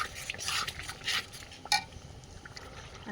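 Garlic and ground cumin paste are stir-fried in a pan over a wood fire for dum biryani, heard as quiet scraping and stirring strokes against the pan with a faint sizzle and occasional clinks.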